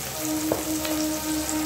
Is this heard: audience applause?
no